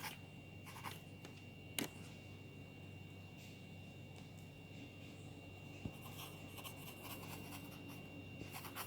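A pen writing on paper, soft scratchy strokes in short irregular bursts with a few taps, faint and close against a quiet room hum.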